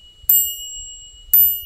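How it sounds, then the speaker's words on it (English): Cycle Torch bicycle bell, a high-quality loud handlebar bell on an Aventon Aventure e-bike, struck twice about a second apart, each a bright close ding with a clear ringing tone sustaining between strikes. "So this right here is the Cycle Torch bell. It is a high quality bell"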